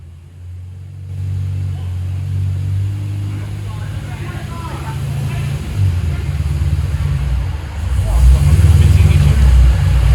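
A Roush Stage 3 Mustang's engine drones loud and steady on a dyno, low and heavy throughout, with a rise in revs toward the end.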